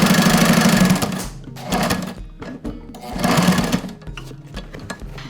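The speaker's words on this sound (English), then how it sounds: "And then you're just going to sew with a 1/2 inch seam allowance." A sewing machine stitches the seam of a tote bag made from recycled sail material, running in loud rapid bursts that stop and restart several times, close and alone.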